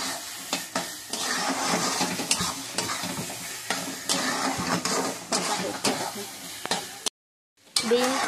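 Egg, potato and dried fish frying with three spices, a crackling sizzle punctuated by repeated scraping stirs against the pan, close and busy, with a brief drop to silence near the end.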